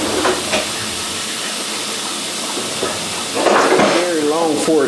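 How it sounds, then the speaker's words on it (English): Steak sizzles on a grill in a home kitchen with a constant broad hiss, louder in the last second or so, while a voice talks faintly underneath. "So you see our steak is grilling."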